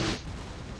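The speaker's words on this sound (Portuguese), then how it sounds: "Meu canhão vai pegar aí um tiro só." A single cannon shot in Napoleon Total War, a short loud boom at the very start that quickly decays into a low rumbling tail.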